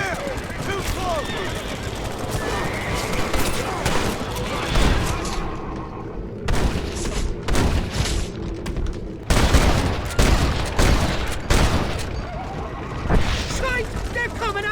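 A Red Dead Redemption shootout fills the scene with repeated close gunshots and volleys, loud and irregular, cracking over a busy mix of hoofbeats, rumbling wagon and shouting voices.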